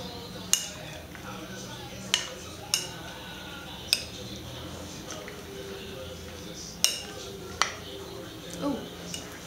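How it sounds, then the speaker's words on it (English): Utensil scraping and clinking against a bowl while ingredients are mixed, with sharp irregular taps spaced a second or so apart over a soft background hiss, fairly close and moderately quiet. "And then you want to make sure you mix the whole thing."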